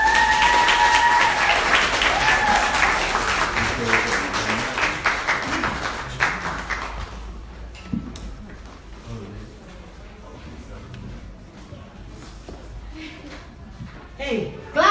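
An audience at an Afro hair show launch party bursts into loud, dense applause that gradually thins out to scattered claps, while people talk and call out over it.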